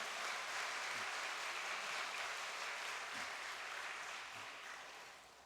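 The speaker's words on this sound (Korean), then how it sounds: "다시 한번 경화와 감사의 박수를 참 아버님께 올려주시기 바랍니다" Broad, sustained applause from a large church audience offering thanks, steady at first and slowly tapering off toward the end.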